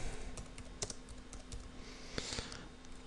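Typing on a computer keyboard while entering text in the trakAxPC video editor, a steady run of quiet close key clicks with a few sharper taps, no talking.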